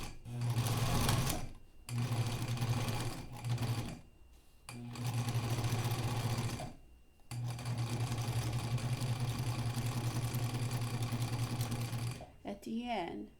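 A sewing machine runs a long basting seam through fabric, stitching in several steady bursts separated by short pauses, close and loud, with a brief rustle of handling at the end.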